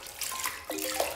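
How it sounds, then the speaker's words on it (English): A grout sponge or towel is rinsed under a running tap after tiling a floor, a short close burst of splashing, gurgling water. "And then rinse it off."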